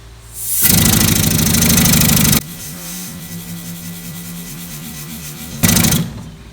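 A Harbor Freight Central Pneumatic pneumatic paint shaker, clamped and run below full speed, hisses and rattles loudly for under two seconds, drops to a steadier lower drone, then bursts briefly louder again before cutting off.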